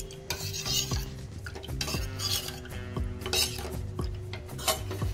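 Cornflour and milk are stirred for fruit custard, a spoon scraping and tapping against a metal pot in steady repeated strokes, close and moderately loud with light clinks, no voices.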